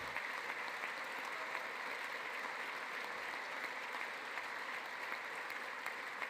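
Steady, dense applause fills the whole stretch, a crowd clapping continuously at a speech, moderately loud with no breaks and no talk over it.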